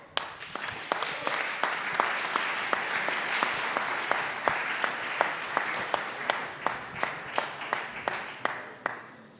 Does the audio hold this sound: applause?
yes